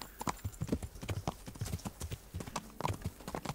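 Horse hooves clip-clop in steady, quick footfalls as a horse is ridden through brushy hillside terrain in Kingdom Come: Deliverance, close and fairly quiet, with faint voice traces in the background.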